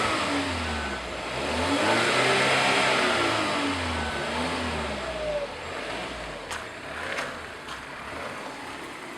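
A 2016 Volvo XC90 seven-passenger SUV engine revs up to around 4,000 RPM and settles back, its pitch rising and falling under steady road and cabin noise. Heard from inside the car, moderately loud, with no talking.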